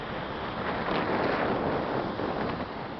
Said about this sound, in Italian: C'è sempre vento qui.